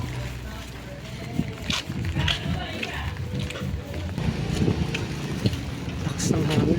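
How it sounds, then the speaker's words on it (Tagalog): Strong wind buffets the microphone in a heavy, fluctuating roar, with voices talking underneath at times. "Lakas ng hangin, sumasayaw."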